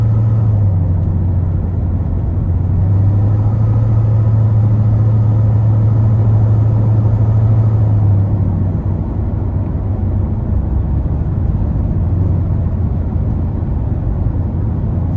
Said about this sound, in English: the car can speak for itself, just how loud it is, how much fun it is.